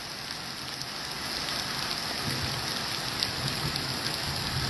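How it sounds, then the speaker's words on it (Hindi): Heavy rain pours steadily over Tangmarg in Baramulla District as a dense, even hiss that holds at a constant level throughout, with no voices. "जहाँ पे मौसम जो है काफ़ी तेज़ बारिश हो रही है"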